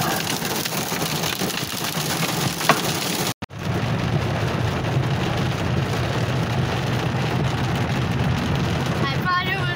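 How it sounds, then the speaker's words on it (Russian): Hail pours down in a dense, steady roar that pauses for an instant and then resumes just as heavy. "мы там стоим и ждем, пока град кончится"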